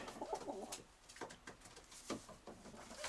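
Pigeons coo softly in short throaty bursts, close by, with faint fluttering and shuffling between the calls; Mykolaiv pigeons.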